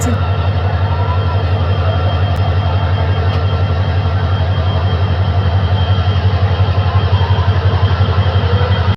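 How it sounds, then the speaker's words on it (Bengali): A train rolls along the line right beside a house, with a loud, steady, throbbing engine rumble that continues without a break. "তো দেখুন নিচে আবার ট্রেন লাইন, তো এই তো ট্রেনও এসে গেছে।"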